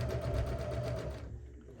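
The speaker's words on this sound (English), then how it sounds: "So I'm probably sewing at about 1/8 of an inch from that upper edge." A sewing machine stitches fabric for a tote bag about an eighth of an inch from the upper edge, a steady close whirring run that stops abruptly near the end, leaving a quiet room.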